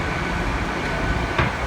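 Steady rumble of a Great Western Railway train at Plymouth station, a London Paddington service waiting to depart, with a brief louder clank near the end and no talk.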